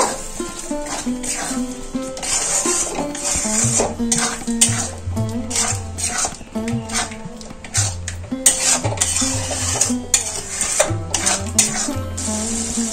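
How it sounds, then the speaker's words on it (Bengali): Spice masala mixed with whisked sour curd is stirred and sautéed over a lowered gas flame, with utensil scrapes and clinks running steadily under louder background music. "এই টক দই যখন দেবেন গ্যাসটা একটু কমিয়ে দেবেন। আর একটু মশলা কষিয়ে নেব।"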